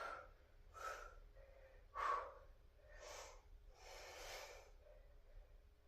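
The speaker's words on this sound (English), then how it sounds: "Make sure you're breathing." Someone breathes heavily through a set of weight exercises, with five or six loud, forceful exhales and snorting breaths spaced about a second apart, close up and otherwise quiet.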